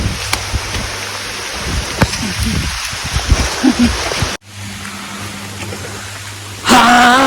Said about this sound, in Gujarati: જબરો વરસાદ ચાલુ થઈ ગયો.